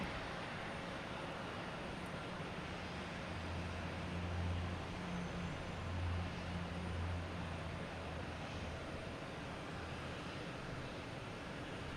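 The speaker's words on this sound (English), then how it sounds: "We got a JetBlue, an A220" A JetBlue Airbus A220 airliner departs Boston Logan for Denver at sunset, a faint, distant, steady jet roar with a low rumbling drone that swells slightly and holds throughout.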